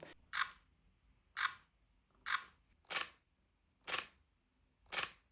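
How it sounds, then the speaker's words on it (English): Nikon Zf mirrorless camera firing its mechanical shutter: six crisp, close clicks spaced about a second apart, each a short bright snap with quiet gaps between and no talking. "I enjoy the mechanical shutter sound and feedback of the ZF much more than compared to the ZR"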